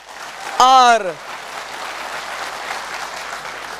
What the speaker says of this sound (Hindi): तो आप सभी के लिए भी एक जोरदार तालियां